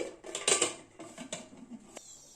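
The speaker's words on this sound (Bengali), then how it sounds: "এবার প্রেসার কুকারটা লাগিয়ে দিচ্ছি।" Metal clattering of a pressure cooker lid being fitted on while cooking dal, a few close, sharp clanks and scrapes with short gaps between them.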